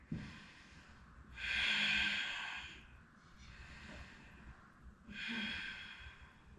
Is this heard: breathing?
yes